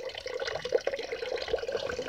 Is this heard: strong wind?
no